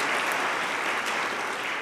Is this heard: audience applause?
yes